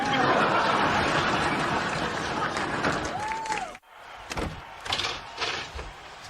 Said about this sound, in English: Well, Greg, maybe we should shut this door